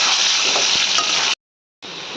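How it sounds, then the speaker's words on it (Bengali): Potatoes fry in hot mustard oil, a loud, close, continuous sizzle that briefly cuts to silence before resuming, with no talking. "তেল গরম হয়ে গেছে, সর্ষের তেল দিয়েছি, আলুগুলো খুব ভালো করে ভাজা হলে"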